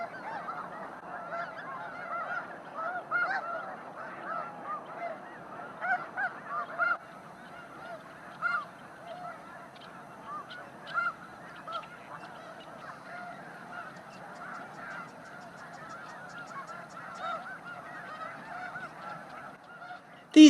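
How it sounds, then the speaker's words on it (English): Flocks of Ross's geese and snow geese honk constantly across winter wetlands in California's Sacramento Valley, a dense, overlapping chorus of calls at middle distance with no voices. "Ross's geese are distinguishable from snow geese by their smaller size."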